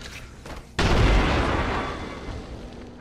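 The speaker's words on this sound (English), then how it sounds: "Grenade out!" A grenade detonates in a shooter video game with recharging shields: a sudden loud boom hits partway through and rolls off into a long, noisy decay that fades over about two seconds.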